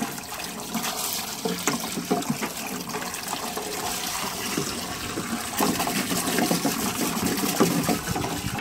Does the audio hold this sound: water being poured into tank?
yes